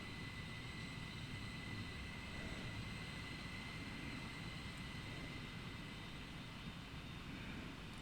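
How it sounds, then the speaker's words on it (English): A train on the Bernina line in Train Sim World 5 hums and rumbles steadily at low volume, with a faint constant whine on top and no voices. "There's my train."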